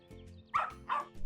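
A dog gives two short, quiet barks close together, faint and brief against a low background hum.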